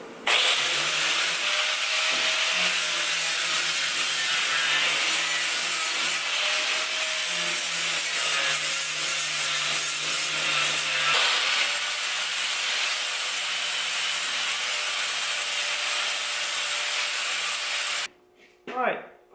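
An angle grinder fitted with a flap disc grinds rusty car body metal on a Nissan 240SX, a loud continuous abrasive whine held close for most of the time before cutting off near the end.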